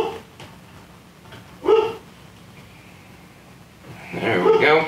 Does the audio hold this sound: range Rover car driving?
no